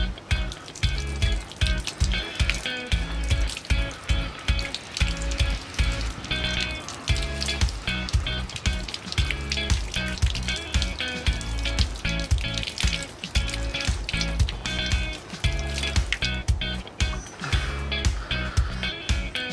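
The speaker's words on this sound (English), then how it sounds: "Just rinse it off under some water." A scooter part is rinsed under a running tap, with water splashing and pattering irregularly against the metal in a close, continuous spatter.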